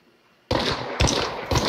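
Three loud, close gunshots in Hunt: Showdown, evenly spaced about half a second apart after a quiet start, each a sharp crack with a booming tail.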